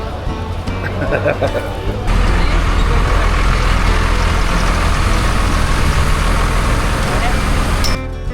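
A bus engine idles loudly and steadily at a resort gate, with a deep constant drone that swells after the opening seconds, and voices can be heard over it.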